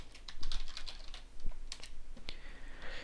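Rapid close keystrokes on a computer keyboard, a steady run of light clicks at even volume, with no voices.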